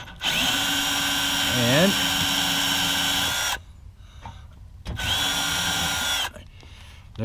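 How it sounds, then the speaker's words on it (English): A power drill fitted with a quarter-inch socket runs in reverse to back a fastener out of an RV belly pan, giving a loud, steady whine for about three seconds, a pause, then a second shorter run. A brief word is spoken. "Put that on the drill. We're just going to reverse it out, see what happens."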